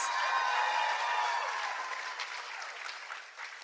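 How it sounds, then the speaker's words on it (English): Sophomores receive a round of audience applause, a dense wash of clapping that starts full and fades gradually across the few seconds, heard alone. "Let's give another round of applause for the sophomores"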